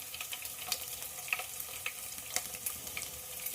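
Curry leaves and dried red chillies sizzle in hot oil, a faint, steady crackling hiss with small pops scattered through it, heard close with no one talking.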